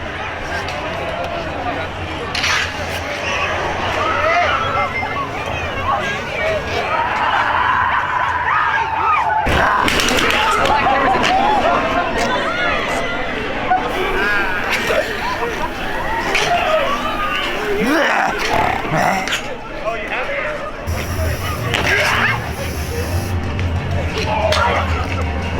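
Large crowd at Knott's Scary Farm opening night, a steady dense hubbub of many voices milling and dispersing nearby, with scattered louder shouts and bumps throughout and the din briefly thinning near the end.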